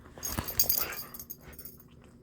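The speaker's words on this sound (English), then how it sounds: "Puppy is upset at being ignored." A puppy whimpers and whines in short, uneven bursts, fairly close and moderately loud, fading to softer snuffles toward the end.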